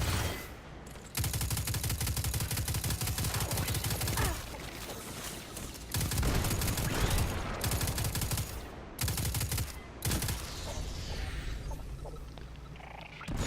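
Gunfire in the shooter game Destiny 2 rattles in loud, dense, rapid automatic bursts that run almost without break, with a few short gaps between volleys.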